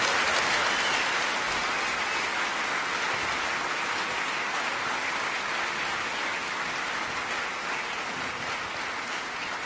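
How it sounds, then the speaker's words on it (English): An audience at the EMS Championships finals 2018 gives sustained applause for a winner and his team. The clapping is dense and continuous, and loud at the start before easing off slightly over about ten seconds. "Let's give him a huge applause for him and his team."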